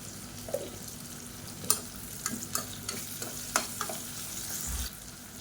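Onions saute in oil with added ghee, giving a soft, steady sizzle at low volume. Several light scrapes and taps of a stirring spoon stand out, with no speech.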